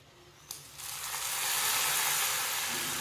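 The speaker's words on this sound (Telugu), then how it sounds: "తాలింపు అంతా మరుగుతున్న రసంలో వేసుకోవాలి" A tempering of crushed cumin and shallots hits boiling pepper rasam with a sudden splash, then a loud, steady sizzle that builds and holds to the end.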